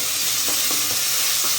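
Ginger garlic paste with salt frying in a pan, a bright continuous sizzle and hiss with a few soft stirring scrapes, close and steady.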